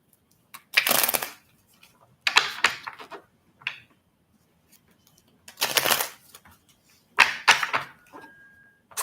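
A deck of cards is shuffled close by in four separate bursts of crisp riffling, each lasting about half a second to a second, with quiet pauses between them and no talking.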